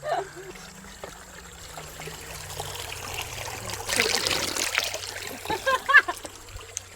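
Spring water bubbling out of the ground at the Sagamore Spirit distillery, a soft trickling and splashing flow heard nearby, rising toward the end with a few brief splatters, and low voices faintly underneath.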